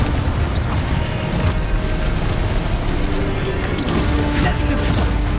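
Explosive Expulso spell blasts in the Hogwarts Legacy video game, a dense, continuous booming roar of magical combat with rumbling low end and crackling bursts throughout.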